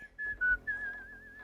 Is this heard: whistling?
yes